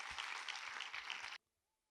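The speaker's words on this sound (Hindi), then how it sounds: "ताली बजाओ।" Audience at a motivational business talk breaks into dense, even applause that holds steady for over a second and then cuts off abruptly into silence.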